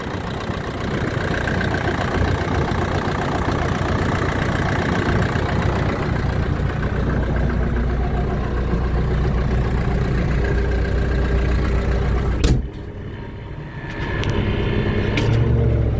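A SCOUT TV-904 S walk-behind tractor engine idles in a steady, close mechanical chug, then briefly cuts out with a clunk before running again.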